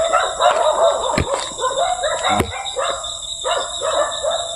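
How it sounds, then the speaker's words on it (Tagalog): A dog barks and yips repeatedly nearby in uneven bursts, over steady high-pitched insect buzzing and background noise. "Kasi may aso po mga tol."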